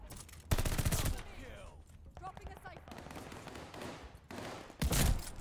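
Shotgun fire in the first-person shooter Call of Duty Vanguard comes as two loud, close blasts of gunfire, one near the start and one near the end. Quieter game ambience and scattered effects fill the stretch between them.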